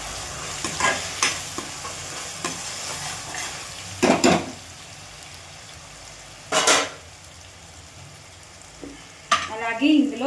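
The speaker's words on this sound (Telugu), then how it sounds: "నెక్స్ట్ ఇందులో టమోటా పేస్ట్ అనేది వేద్దాం." Tomato paste sizzles in a hot pan for a fish pulusu while a utensil stirs it. Sharp scrapes and clanks of the spoon against the pan come in separate bursts over a steady frying hiss.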